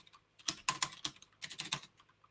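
Fast, close typing on a computer keyboard in two short bursts of crisp key clacks with a pause between, no voices.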